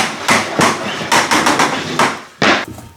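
Vinyl plank flooring boards knocked into place at a doorway, a series of sharp, close thumps and taps spaced irregularly, about seven impacts with short gaps between them.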